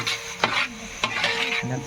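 Tempering (tadka) sizzles in a pan at a communal Konkan meal, a steady hiss broken by a few sharp stirring clinks and scrapes, close and fairly loud.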